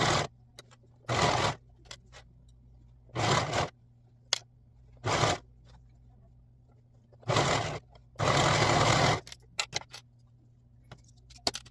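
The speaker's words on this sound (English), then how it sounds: "So now we're going to serge the cuffs to each the left and right side legs" A serger stitches the cuffs of infant harem pants, running in several short bursts of fast buzzing whir, each a second or so long, separated by quiet pauses with small clicks and handling sounds.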